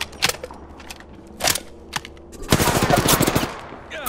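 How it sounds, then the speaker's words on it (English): Apex Legends gunfire opens with a few sharp single shots, then turns into a dense, rapid automatic burst during the last second and a half, loud and close, mixed with crackling game effects. "I'm taking shots."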